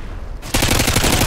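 Gunfire in the video game Modern Warfare 2 starts suddenly after a quiet moment and becomes a loud, rapid automatic burst of shots that continues to the end.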